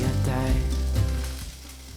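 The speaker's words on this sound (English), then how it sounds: "On the side, we will quickly saute the pre-blanched cauliflower florets." Pre-blanched cauliflower florets sautéing in a pan, a close hiss of sizzling oil over a low hum, loud at first and easing off gradually toward the end.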